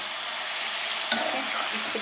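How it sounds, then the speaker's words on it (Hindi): Cauliflower pieces rustle and scrape as they are stirred in a sizzling pan, a short steady hiss with a few soft clatters. "गोभी को जो है वो बहुत अच्छा सा हमने मिक्स किया है।"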